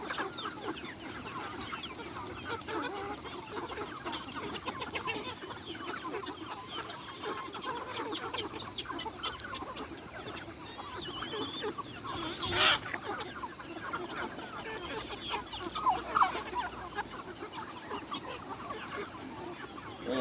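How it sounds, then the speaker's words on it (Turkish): Five hens cluck and murmur continuously at a moderate distance on a farm, with a couple of sharper squawks standing out against a steady outdoor background. "Evet, beş tavuğumuz var."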